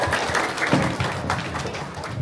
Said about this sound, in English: let's give a round of applause for everything we've accomplished